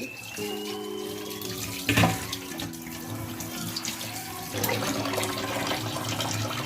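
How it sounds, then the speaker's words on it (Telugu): Skinned fish pieces are rinsed under a running tap, a steady close stream of water with splashing and a brief heavier gush midway. "ఇది బాగా వాష్ చేసుకోవాలి ఫైవ్ టైమ్స్ సిక్స్ టైమ్స్"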